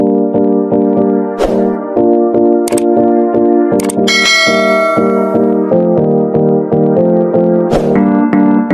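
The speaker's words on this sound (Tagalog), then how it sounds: "don't forget to ring the notification bell" A bright notification bell chimes several times over a steady, rhythmic musical backing, with sharp ding strikes standing out clearly and loudly throughout.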